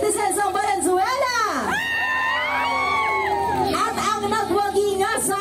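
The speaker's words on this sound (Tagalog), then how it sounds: "Isa mga sigawan, mga senior citizens ng Valenzuela!" A crowd of senior citizens from Valenzuela shouts and cheers loudly and steadily at an outdoor walkathon opening for the Coloong boardwalk, with whoops and a sweeping electronic tone rising through the middle.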